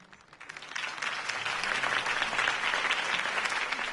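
Applause from a crowd swells quickly and holds steady, a dense wash of clapping hands without any voices standing out.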